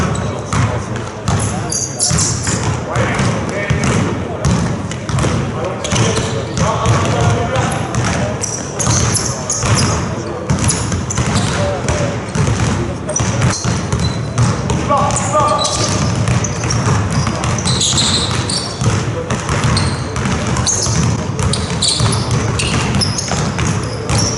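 Basketballs are dribbled on an indoor court during a crossover dribbling drill, with constant overlapping bounces echoing in a busy gym under loud talk and coaching voices.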